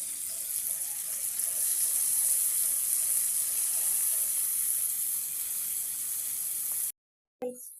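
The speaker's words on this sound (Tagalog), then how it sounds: "Kumulo na ang mantika" Fish frying in boiling cooking oil gives a steady, bright hiss of sizzling that holds evenly for about seven seconds before cutting off abruptly.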